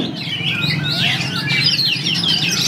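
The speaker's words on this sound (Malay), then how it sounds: "lomba dan pameran burung berkicau Gawai Bersatu Cup 3" Kacer (magpie robin) songbirds at a songbird contest and exhibition deliver continuous, loud, warbling song with rapid whistled phrases and trills, several birds overlapping against a steady crowd murmur.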